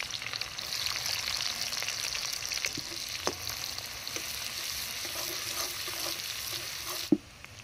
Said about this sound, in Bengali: তারপরে দিল পেঁয়াজ তেলের মধ্যে